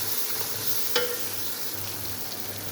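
Tomato and garlic stir-fried in a pan, a steady soft sizzle with one brief clink or scrape of the spoon near the start, close and alone.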